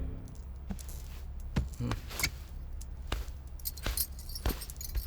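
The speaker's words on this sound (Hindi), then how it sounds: "इस घर की सारी चाबियां इसमें हैं।" A bunch of house keys jangles in short metallic bursts, close and fairly quiet, repeating irregularly for a few seconds with no talk over it.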